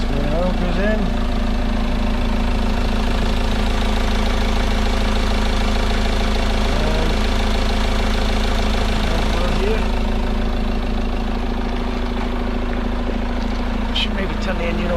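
Diesel engine of a 2016 Peugeot Boxer 2.2 motorhome idling steadily with a low, even rumble and a faint knocking vibration, close by throughout.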